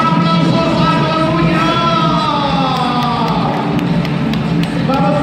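A crowd at a freestyle event in Coruña cheers, yells and whoops loudly and continuously while a commentator's voice rises over it.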